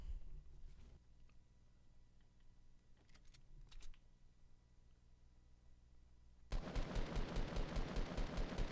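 A sudden loud burst of rapid automatic gunfire from a Fortnite match erupts near the end, following quieter scattered clicks and faint distant shots.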